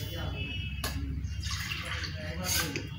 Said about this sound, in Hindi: अब मैं एक कटोरी और पानी डालूँगी।